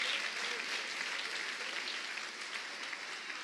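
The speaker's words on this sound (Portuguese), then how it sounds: "Pode aplaudir ao nome do Senhor." A church congregation applauds during a worship service, a continuous, even roar of many hands clapping, moderately distant and without talk over it.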